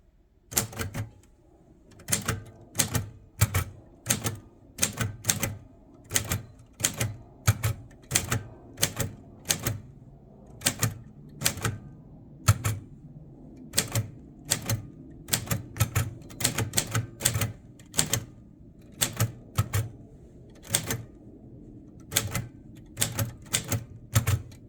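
Typing on a Royal Quiet De Luxe manual typewriter from 1952 or 1954, with sharp mechanical key strikes in uneven bursts, some rapid runs and short pauses, heard close and alone.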